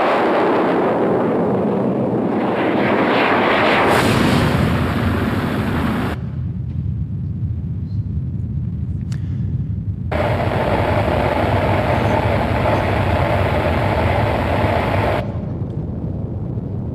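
A suborbital vehicle's rocket engine burns with a loud, continuous roaring rumble that shifts abruptly in tone and cuts between sections, sustained throughout with no voices.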